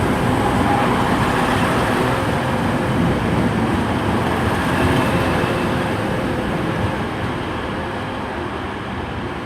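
A Class 185 diesel train departing Huddersfield station on a service to Hull, with a steady loud engine roar and rumble that eases slightly toward the end.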